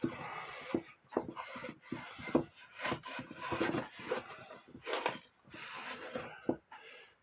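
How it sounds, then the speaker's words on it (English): A rag saturated with Howard Feed-N-Wax, New Life furniture cream and Old English oil is rubbed over a wooden clock case, giving close, uneven wiping and scuffing strokes in irregular bursts with no talk. "just going to wipe it down with this rag."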